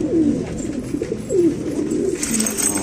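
Roller pigeons at a pigeon shop in a Quetta bazaar coo softly twice, close by, with low throaty warbling calls and no talk.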